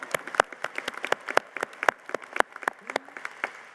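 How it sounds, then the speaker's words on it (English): Audience applause at a university commencement ceremony, a steady patter of many hands clapping at moderate distance, alone without talk for a few seconds. "let's clap"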